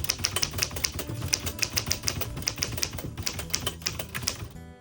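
Steady clacking of a 1910 Remington 12 manual typewriter, keys striking in a quick irregular rhythm, close and alone with no voices.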